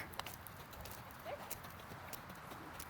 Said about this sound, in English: and then canter right there, Gina.